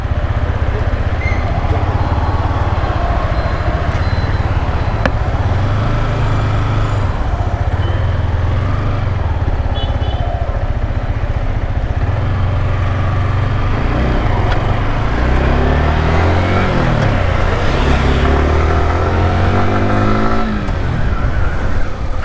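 A 2022 Yamaha R15 V4 motorcycle engine runs in first gear, loud and close, idling with a steady drone before revving up in rising surges that climb and fall again; no talk is heard.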